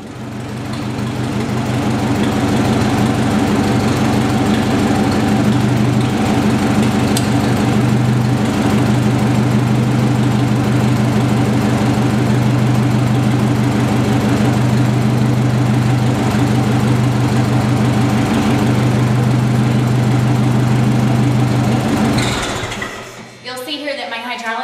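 A tractor engine with a three-point hydraulic lift runs at a steady idle for about twenty seconds, loud and close with an even low chug, then cuts off near the end, followed by brief clatter.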